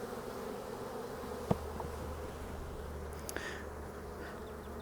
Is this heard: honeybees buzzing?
yes